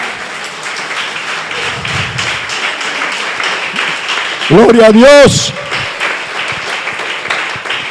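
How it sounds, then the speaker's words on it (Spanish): A church congregation breaks into applause during a sermon, a dense patter of clapping that runs steadily throughout as a preacher's voice rises loudly over it midway. "Denle un aplauso al Señor."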